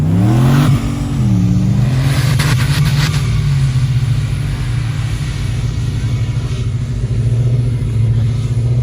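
A supercharged Nissan Y62 revs hard and drives on beach sand at Beachport, South Australia. The steady, loud engine drone rises and falls in pitch throughout, with a few brief higher-pitched bursts early on.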